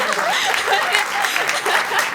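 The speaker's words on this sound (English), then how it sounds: "I need to give a big round of applause to our amazing narrator." A crowd breaks into loud, close applause for the narrator at a Puccini centenary celebration. Dense clapping runs throughout, with some voices and light laughter mixed in.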